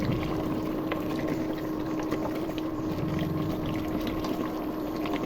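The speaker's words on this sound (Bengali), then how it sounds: "মাংসতে বলক চলে এসেছে, নেড়ে চেড়ে দিই।" Beef bhuna boils in a pot, giving a low, steady bubbling rumble with faint clatter from stirring, even and moderately quiet throughout, no talk.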